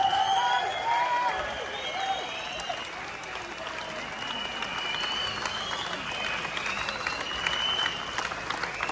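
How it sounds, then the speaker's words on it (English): Protest crowd applauding outdoors, sustained loud clapping with scattered cheers and whistles running throughout. "Please give her a massive round of applause."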